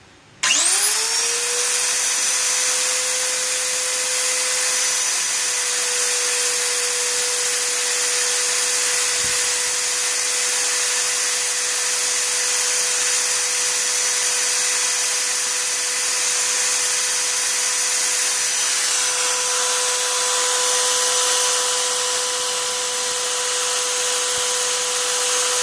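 A JC Kawasaki 1185G circular saw motor spins up and runs freely with no cut, a loud steady high whine holding constant throughout after a quick start.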